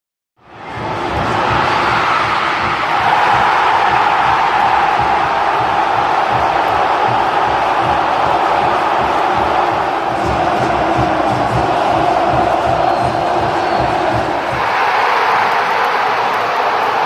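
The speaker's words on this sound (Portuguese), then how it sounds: "Confira as 2 torcidas." Football fans of Fluminense and Vasco roar together at the end of a match in the Maracanã stadium, a loud, continuous wash of crowd noise with chanting pulses, steady throughout.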